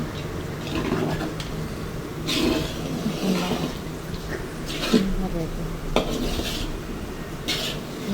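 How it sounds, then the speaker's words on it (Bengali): Stirring chicken khichuri in a cooking pot, with intermittent scraping and clinking of a spoon against the metal over a steady background hiss, close and moderately loud, with faint speech in places. "এখন নাড়াচাড়া দিতে আসি"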